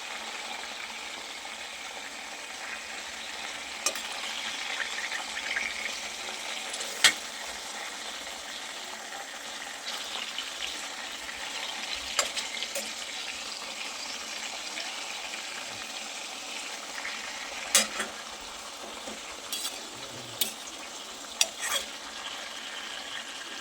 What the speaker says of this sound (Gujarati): અને હજી એકવાર ફેરવી લઈએ જેથી બધી બાજુથી સરસ રીતે ફ્રાય થઈ જાય.